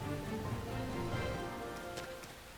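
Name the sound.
rain in video game Xenoblade Chronicles X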